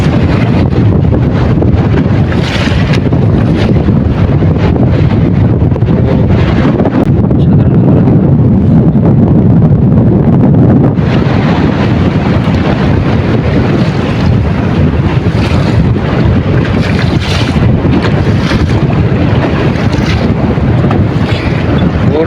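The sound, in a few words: wind and waves around a fishing boat in a storm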